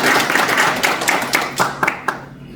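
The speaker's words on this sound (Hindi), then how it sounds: "जोरदार ताली आप लोग की" An indoor audience at a direct selling seminar applauds in a dense burst of clapping that thins out over about two and a half seconds, ending in a few scattered claps.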